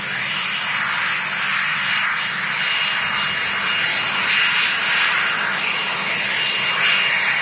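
A NetJets Cessna 560 XL business jet arriving at Manchester Airport from Dublin, heard as a steady, loud, broad jet engine roar that holds fairly even throughout, with no talking.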